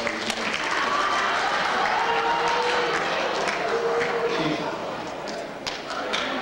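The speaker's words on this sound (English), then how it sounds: "if I could get everyone to please give a round of applause to our good sportsmanship coach, Tanya Harding." An audience at a Coon Rapids Snowflake Days event gives a round of applause for the good sportsmanship coach, a sustained wash of clapping from a crowd in a large room, steady for several seconds before tapering slightly.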